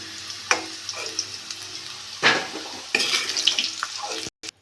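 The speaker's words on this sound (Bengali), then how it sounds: "আলুগুলো ভালো করে ভেজে" Potato pieces fry in hot oil in a pan, a steady crackling sizzle with occasional sharper bursts and scrapes, heard without speech.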